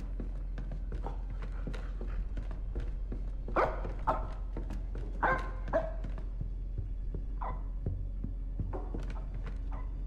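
A dog barks upstairs in the Granny horror video game, several short barks spread across a game scene, with a steady low hum underneath and no one talking.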